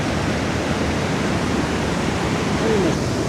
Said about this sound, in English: That is the beauty of a waterfall.